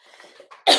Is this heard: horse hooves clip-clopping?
no